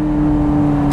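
Ferrari 355 fitted with an aftermarket exhaust pulls hard under acceleration, a loud, steady engine note with strong harmonics heard close up, with no talking.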